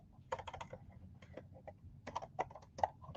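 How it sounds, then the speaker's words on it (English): Fingers tap on a computer keyboard in short uneven clusters of soft, close clicks with brief pauses between bursts. "I'm going to type it in right here."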